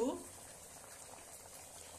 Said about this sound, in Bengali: দেখো চটবট চটবট চটবট চটবট করে ফুটছে